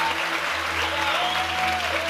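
Congregation applauding in their seats during a church sermon, steady continuous clapping of a crowd with no pauses, held at an even level throughout under a low electronic hum.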